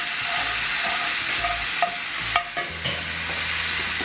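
Steady scraping and stirring of a thick beer cheese roux of flour and beer in a very hot cast iron skillet, close up, with a faint sizzle underneath and a few sharper utensil knocks against the pan.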